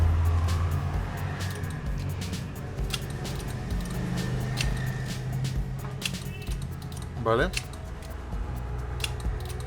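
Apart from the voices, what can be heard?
car electric door lock actuators operating via relays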